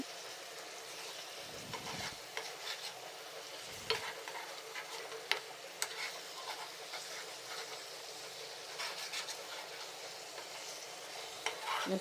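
Food is stirred in a frying pan, with a faint steady sizzle and occasional soft scraping from the stirring, no one speaking.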